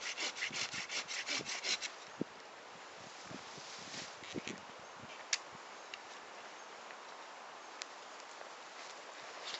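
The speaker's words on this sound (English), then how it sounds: "taking my pruning saw, just trim that off" Pruning saw cutting through a short length of dogwood stick, a rapid run of rasping strokes at the start and then slower, scattered scraping and rubbing close by, with no talk.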